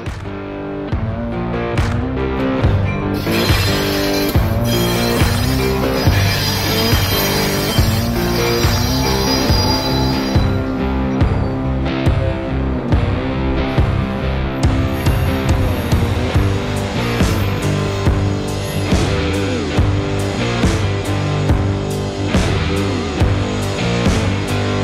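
A heritage train rolls along the tracks at a North Carolina transportation museum: a continuous loud rumble and clatter of wheels with metallic squealing, heard close from on board.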